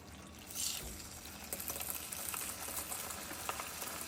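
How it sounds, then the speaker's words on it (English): Spam slices fry in a little olive oil over low heat, giving a steady soft sizzle and crackle that stays close and faint with no voices. "And start frying."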